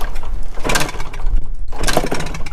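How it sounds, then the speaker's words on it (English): A 1974 Honda MT250 Elsinore barn-find motorcycle engine backfiring, with loud, close sputtering pops and rough bursts repeating across the moment. "This thing is backfiring like crazy."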